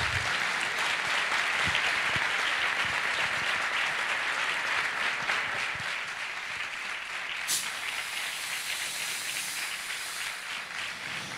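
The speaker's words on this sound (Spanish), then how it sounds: "Pues demos un fuerte aplauso a Antonio Puente Mayor" Strong applause from a conference audience welcoming a guest speaker, dense sustained clapping that fills the room and eases slightly toward the end.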